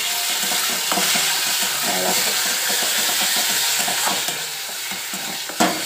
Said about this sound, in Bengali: আর এইদিকে হচ্ছে মশলাটা আমার কষা হচ্ছে